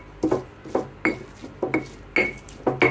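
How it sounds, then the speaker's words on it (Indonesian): A stone mortar and pestle (ulekan) grinding spice paste, with repeated scraping, knocking strokes in a steady rhythm, close and clear, roughly every half second. "Aku lagi ngulekin ini ya, bumbunya ya."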